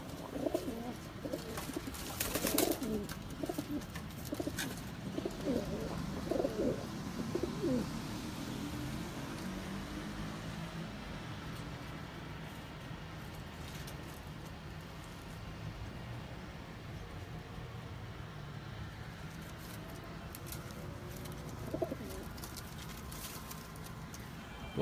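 Pigeons of a prized breed kept in a loft softly cooing and murmuring throughout, a steady layered chorus of low coos with occasional wing flutters and bird movement nearby.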